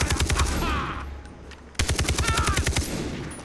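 Enemy gunfire in Far Cry 3: loud sustained automatic bursts close by, breaking off briefly in the middle before another rapid burst resumes.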